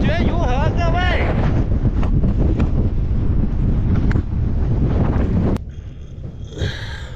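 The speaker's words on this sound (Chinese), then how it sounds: "你们能听到外面的风声吗？" Strong Gobi sandstorm wind roars against a hut in Gansu, a loud, constant buffeting rush close to the microphone that drops abruptly near the end; a voice briefly speaks over it early on.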